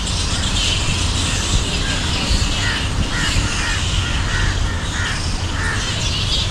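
Crows caw repeatedly from the trees at Uhuru Gardens in Mombasa, with many birds calling in a steady chorus and a low hum of traffic and outdoor noise underneath.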